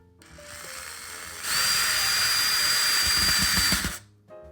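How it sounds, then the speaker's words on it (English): A cordless drill whirs steadily, rising to a louder sustained spin as it drives the mounting screws that fasten a ceiling fan hanger bracket to the ceiling outlet box, then stops; close up, with no talk. "We have tightened the hanger bracket to the outlet box with those two mounting screws."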